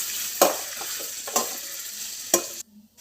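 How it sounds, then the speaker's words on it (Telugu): Ground paste stirred into softening onions and tomatoes in a pan, a continuous close sizzle punctuated by three sharp spatula scrapes, cutting off abruptly just before the end. "దంచుకున్న పేస్ట్ని మనం ఎర్రగడ్డలు, టమోటా మగ్గుతున్న వాటిలో వేద్దాం"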